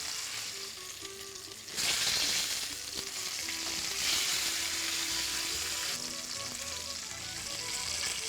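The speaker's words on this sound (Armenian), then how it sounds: "Ահա, արդեն տապակվում է, արդեն կամաց պատրաստվում է։" A thick cut of pork fries in a pan with a continuous close sizzle that jumps noticeably louder partway through and then holds steady and dense.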